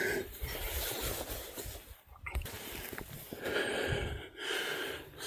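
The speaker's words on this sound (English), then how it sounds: "You can hear me breathing hard." A person walking a cut path to a food plot breathes heavily up close, with sharp snorting inhales and gasping exhales in an uneven rhythm over outdoor rustling.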